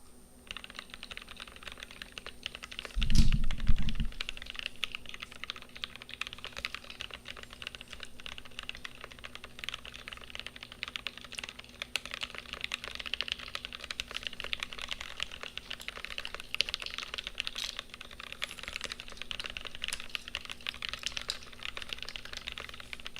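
Rapid, continuous typing on a GMK Pro mechanical keyboard, with close, clacky switch strikes throughout and a single heavier thump early on.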